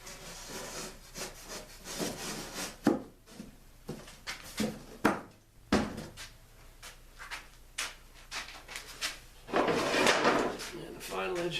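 Wooden drawer bottom panels slide and scrape into grooves during drawer assembly for a converted school bus, with uneven rubbing, knocks and wooden clatter at close range and a person talking partway through.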